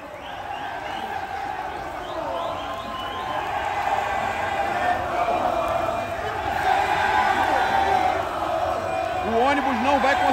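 Flamengo supporters massed in the street in Cuiabá chant and cheer as one continuous roar that swells slightly toward the end, with a voice talking over the crowd.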